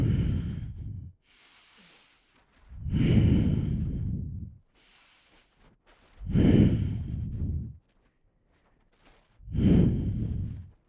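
Deep, audible breaths during a yoga leg-lift exercise, four long forceful exhales alternating with quieter inhales in an even rhythm, close and clear with no talking.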